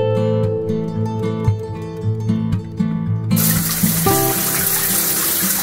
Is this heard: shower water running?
yes